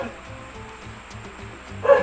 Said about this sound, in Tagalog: Ang ingay-ingay ng aso sa labas.